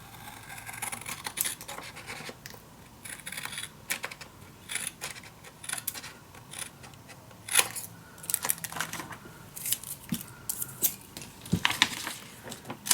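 Paper being trimmed for a Stamperia Savana envelope mini album: close, quiet, irregular snipping and scraping clicks with soft paper rustle throughout, no talking.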